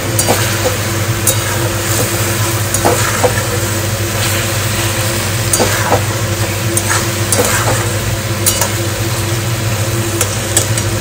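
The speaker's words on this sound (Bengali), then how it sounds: "মাছ আমার সব ভাজা হয়ে গেছে।" Fish frying in a pan, a steady close sizzle with scattered spits and pops over a constant low hum of a running appliance, no voices.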